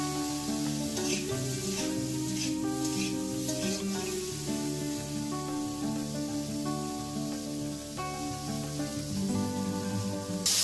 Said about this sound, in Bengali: কুমড়োটা কড়াই দিয়ে দিচ্ছি।